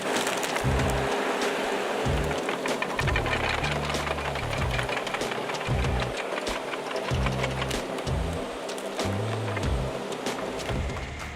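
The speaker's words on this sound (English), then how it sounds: "The Woodcracker R900 tree stump remover is removing tree stumps and roots." A Woodcracker R900 stump remover on an excavator works at tree stumps and roots, with a steady heavy engine drone under cracking, splintering wood and irregular crunching, continuous and fairly close.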